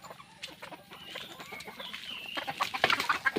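A two-month-old stag, a young rooster, clucks in soft repeated notes that build into brighter calls toward the end, with faint farmyard background.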